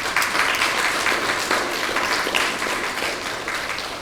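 An audience applauds with dense, steady clapping that holds for several seconds and then begins to fade slightly, loud and close at an official project launch event.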